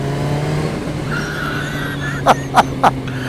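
Kawasaki ZX14 motorcycle engine running in third gear at about 4,000 RPM: a steady, humming drone with a brief dip, then a few short, sharp bursts near the end.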